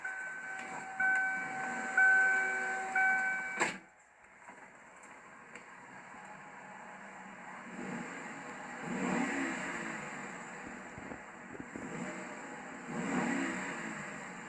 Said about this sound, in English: Powerful V8 engine note.